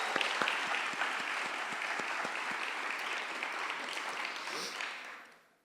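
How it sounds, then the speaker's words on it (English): A big round of applause from a conference audience at a rural regeneration closing session, steady clapping with a few sharp claps standing out early, then fading away at the end. "So can we give them a big round of applause?"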